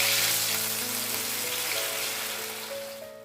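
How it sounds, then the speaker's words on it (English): Batter-dipped millet sweet balls deep frying in hot oil give off a steady, dense sizzle that stays loud and even throughout, tapering slightly at the very end, with no talking. "Now I am dipping the ball into this batter. Dip it completely. And deep fry it."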